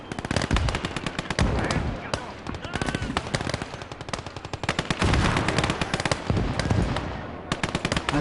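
Heavy, nonstop gunfire and explosions from the World War II Eastern Front battle game Call to Arms: Gates of Hell, with dense machine-gun bursts and booming shots packed close together throughout.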